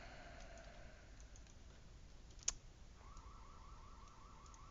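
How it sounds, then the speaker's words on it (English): A house alarm beeps in the background, a faint, rapid repeating electronic tone in pulsing bursts, far off under quiet room noise, with one brief click partway through. "the house alarm just went off"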